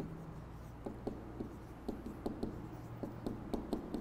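Pen or marker writing by hand on a board during a math lesson on binomial distributions, a steady run of short scratchy strokes and taps, quiet and close, with no talking.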